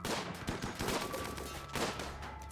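Colonists open fire in the video game RimWorld, with a rapid burst of close gunshots and volleys over a few seconds, loud and dense, with no talking.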